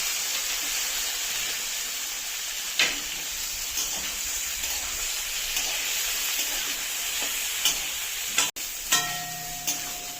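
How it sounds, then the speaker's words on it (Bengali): Steady frying hiss for Bengali vegetarian dalia khichuri as ingredients are lightly fried in a pan, broad and continuous throughout with a few soft stirring knocks and a sharp clank near the end. "হালকা করে ভেজে নেব"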